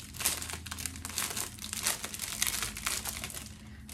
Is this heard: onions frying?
no